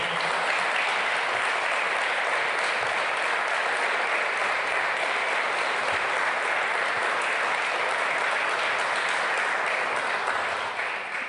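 Steady, dense audience applause fills a televised news event on the end of currency controls and an IMF agreement, loud and continuous with no pauses throughout.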